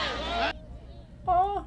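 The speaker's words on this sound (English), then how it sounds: "Oh, little geese." Geese honking in a scene from the film Highlander: two loud, nasal, harmonic honks separated by a brief quiet gap, with voices talking over the soundtrack.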